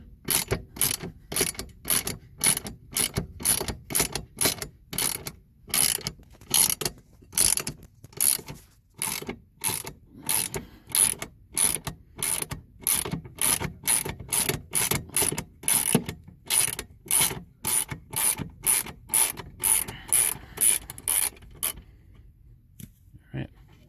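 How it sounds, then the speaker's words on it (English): Ratchet with a 12mm socket loosening a thread-locked bolt on a Yamaha AR210 twin-engine jet boat: close, crisp ratchet clicks in a steady back-and-forth rhythm, about forty strokes, stopping near the end. "gonna loosen up this bolt here using a 12mm socket."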